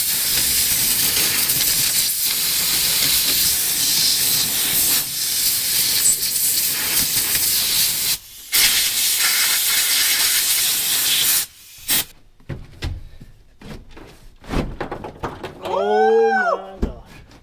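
A compressed-air hose blows in a garage where a 1962 Ford Fairlane window is being worked on, hissing loudly and steadily for long stretches with short breaks, then stopping into scattered clatter and a brief voice.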